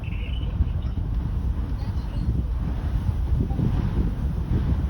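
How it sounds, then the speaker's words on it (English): Strong wind during a tornado outbreak in Minden, Iowa, roaring steadily against the microphone as a loud, continuous low rumble with gusty buffeting, no voices. "Yeah, it's very windy, buddy."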